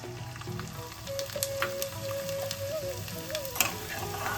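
Ingredients for gond laddu frying in hot ghee in a pan, a soft continuous sizzle with scattered stirring clicks and scrapes, close but fairly quiet.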